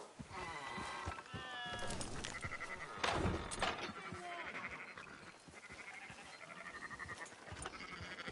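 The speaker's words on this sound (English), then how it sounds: "Fine sheep." Several sheep bleat in overlapping wavering calls over a busy, noisy background in the video game Red Dead Redemption 2, with a sharp thump partway through.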